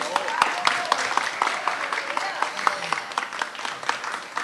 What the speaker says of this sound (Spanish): por favor, un fuerte aplauso para ellas